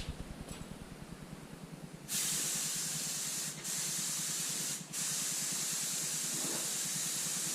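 A spray gun lays a wet coat of paint on a Fordson Major tractor: a loud, steady close hiss in long passes with two brief breaks, following a quieter mechanical pulsing from a compressor or engine.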